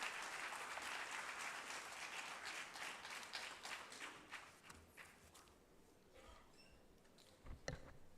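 An audience claps loudly to welcome a speaker at a National Sports Day 2025 event. The dense applause fades gradually, with a few last claps near the end.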